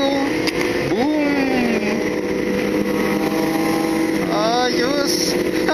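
A CFMoto NK400 motorcycle engine roars loudly and steadily during a long wheelie on a ride through Bongabon and Dingalan, with wind noise and a voice calling out over it.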